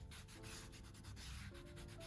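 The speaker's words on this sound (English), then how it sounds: "I'm going straight to the sanding block to make sure that every edge is sanded perfectly" Brisk back-and-forth rasping of a sanding block rubbing a leather edge, quick repeated strokes, close and alone.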